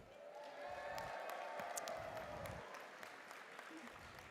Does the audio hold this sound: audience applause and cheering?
yes